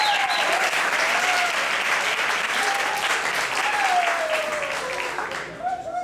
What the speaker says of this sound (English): You heard a cheer go up